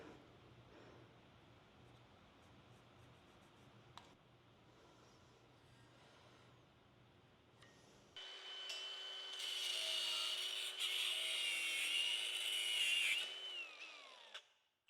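Wood being cut to size for a raised tilt bed floor: low, quiet rubbing and scraping at first, then a louder, sustained whining power-tool cut that winds down at the end.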